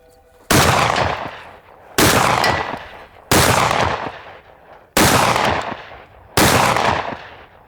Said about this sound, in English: We'll go ahead and shoot a little.